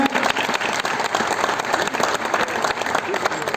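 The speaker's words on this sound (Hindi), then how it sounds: "जोरदार तालियां हो जाए।" Audience applause at an Indian business seminar on Modicare income, a dense, steady patter of clapping from a crowd filling the whole clip with mixed voices, fairly loud and continuous.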